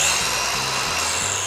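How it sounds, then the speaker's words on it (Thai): An Osuka cordless circular saw winds down after its switch is released, giving a steady, close whirring hum with a slightly wavering low tone over a brief stretch, with no talking. "เวลาที่ผมคลายมือจากสวิตช์เนี่ยเครื่องจะยังหมุนทำงานอยู่สักพักหนึ่ง"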